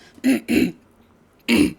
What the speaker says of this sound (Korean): 그래서 그걸 털어내려고 자꾸 헛기침